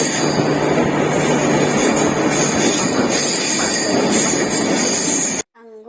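Train sound effect in a children's song about a train of fruits: a loud, continuous rumble with squealing and rattling for several seconds that cuts off abruptly, and a brief voice is heard at the end.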